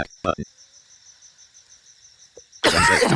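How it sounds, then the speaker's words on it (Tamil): A couple of short, sharp coughs up close at the start, then a steady high insect-like chirping drone, before a burst of talk at the end. "கொஞ்சம் இருமல் இருக்கு பொறுத்துக்கங்கப்பா"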